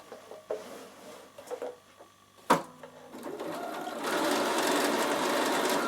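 A Bernina sewing machine stitches a sample: faint clicks and handling noises come first, then a sharp knock, and the motor settles into a steady, rapid stitching hum.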